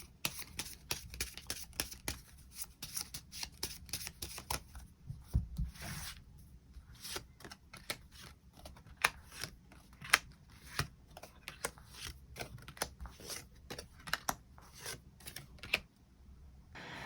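Tarot cards are shuffled and drawn by hand over a long stretch, with quick, irregular papery riffles and snaps close up, quiet and without talk.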